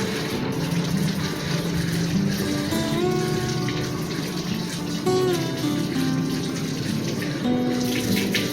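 Tap water running steadily while someone washes hands and face at a mosque washroom, a continuous splashing stream with faint background hum and no speech.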